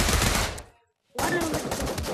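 Rapid AK rifle fire in a video game, a dense burst of shots that stops abruptly for a moment, then resumes just as loud and close.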